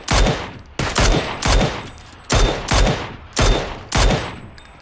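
Rapid bursts of video game gunfire ring out in about seven evenly spaced, loud volleys, each a sharp crack with a short decaying tail, heard alone without talk.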